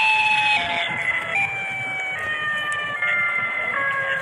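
Siren Head's wailing siren in a video game blares loud and continuous, its long tones gliding and overlapping.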